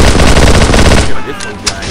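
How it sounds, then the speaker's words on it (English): Rapid automatic fire from a submachine gun in the video game Halo SPV3 crackles loudly in a fast burst lasting about a second, followed by a brief ringing tail and a couple of small electronic blips. "now I've got myself a little submachine gun going"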